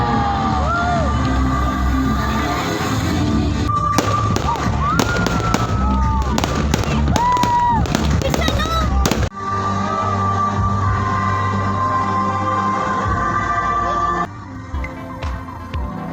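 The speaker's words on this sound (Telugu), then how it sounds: "అంత పెద్ద ఫైర్ వర్క్స్ జరుగుతుంటే అసలు రెప్ప కూడా వేయాలనిపించలేదు" Fireworks bursting during the Symphony of the Sea show in Vietnam, a rapid run of loud booms and crackling explosions with whistling rockets, while a crowd cheers and shouts throughout.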